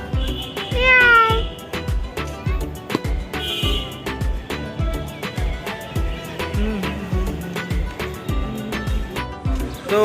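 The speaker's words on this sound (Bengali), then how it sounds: "Miao Miao Miao Miao Miao." A cat meows several times in a loud, busy indoor plant shop, its rising calls standing over a steady rhythmic beat and background clatter.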